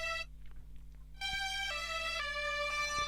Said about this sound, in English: it's like a string loop that's been just chopped up into tiny pieces and spliced back together